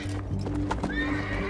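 A horse neighs and whinnies while its hooves clip-clop nearby, a short close burst of equine sounds with no talk over it.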